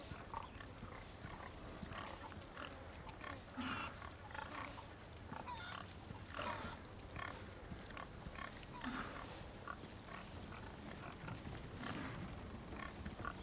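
Repeated short pig grunts in Resident Evil 4 (2023 remake), quiet and scattered over a steady background hum, with no talking.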